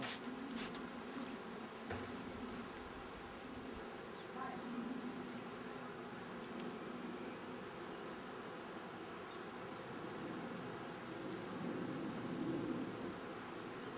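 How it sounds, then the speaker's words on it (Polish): Honey bees swarm around an open hive among this season's fresh combs, a steady, dense buzz filling the air throughout, with individual insects drifting close to the microphone now and then. "Pszczoły są w miarę spokojne."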